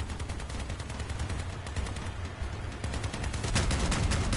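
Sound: gunfire from enemy vehicles in the video game Crossout

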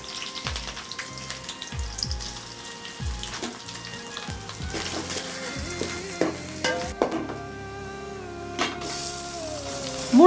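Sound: soaked sago frying in tempering with coconut

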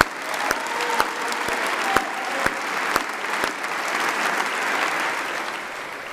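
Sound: applause for the Italian national football team

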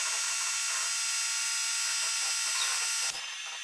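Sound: Tormach CNC mill cutting heat-treated 4140 steel

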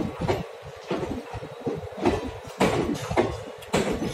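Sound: Howrah–Amritsar Mail train with ICF coaches and WDG4D locomotive

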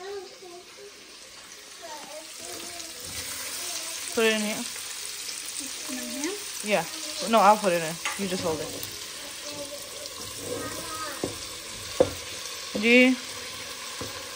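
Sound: ingredients browning in pan for chicken biryani

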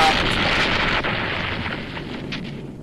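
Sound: exploding bear trap trick explosion

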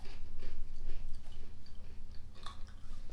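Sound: crunchy Australian Cadbury honeycomb candy being chewed

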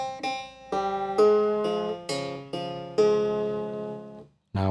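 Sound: krar playing a phrase without ornamentation

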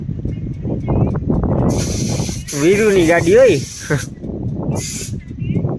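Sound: air hissing while inflating a tubeless tyre

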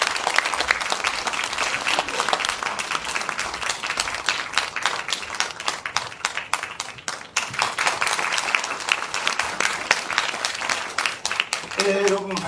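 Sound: audience applause for pansori performance

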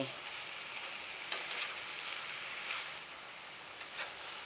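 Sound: stir-frying shrimp with pepper, kaffir lime leaves, fingerroot

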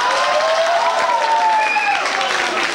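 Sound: audience applause

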